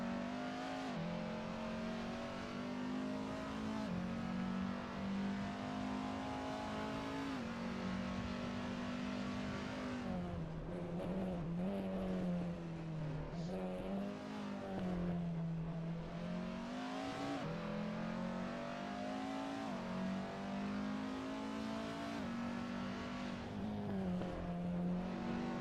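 Race cars in Assetto Corsa, running a 24-hour endurance event, drone continuously with a strong engine tone whose pitch rises and falls through gear changes and throttle shifts, loud and steady the whole way, with no talk.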